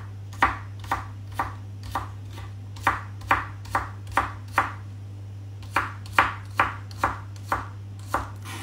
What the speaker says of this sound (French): je vais commencer par les couper finement